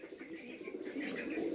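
Female pigeons coo softly in a loft, a low murmuring call heard close up over a faint background hum.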